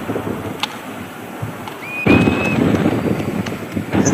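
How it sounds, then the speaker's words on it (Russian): Strong wind gusting steadily on the shore of Lake Portnyagino in Taymyr, roaring into the microphone, with brief high bird whistles of waders cutting through. "А у меня на побережье озера Портнягина все так же бушует ветер"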